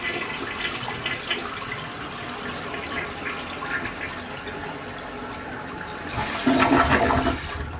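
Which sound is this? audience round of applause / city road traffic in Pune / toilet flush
toilet flush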